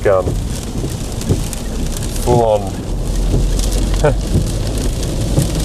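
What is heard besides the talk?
heavy rain and wind during an Australian outback storm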